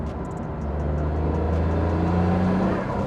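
A Noble M400's twin-turbo Ford V6 with 400 horsepower drones and builds revs, a steady close engine roar with rising tonal harmonics and faint whirring on top.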